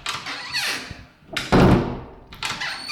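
A household door is swung shut several times but fails to latch, giving a few separate thuds and knocks with brief rattles between them and no talking.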